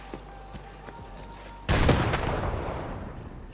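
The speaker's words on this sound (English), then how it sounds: "There's a lot of shots behind me too." Gunshots in Escape From Tarkov, a few faint distant pops followed by one loud close blast that rumbles and decays over a second or two.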